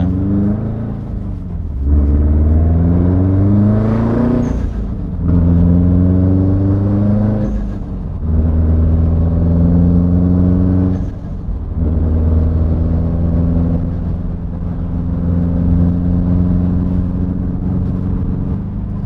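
A Subaru STi drives and cruises around Gilbert, Arizona, just after its 500-mile break-in oil change, its steady engine drone rising through several gear changes with brief dips between shifts, close and continuous.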